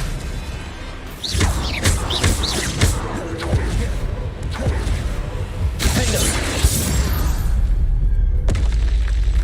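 Bombarda and Confringo spell blasts in the video game Hogwarts Legacy: loud booming explosions with crackling, shattering debris bursts in quick succession, dense and continuous, with a voice calling out over the chaos.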